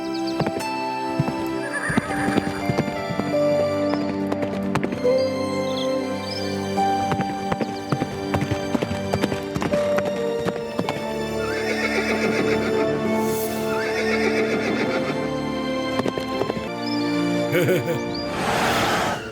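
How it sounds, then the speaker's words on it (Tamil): Cartoon horse from Motu Patlu neighs loudly, with hooves clip-clopping over busy background music, and a voice talks over parts of it. "இங்க பாரு பாச குதிரை"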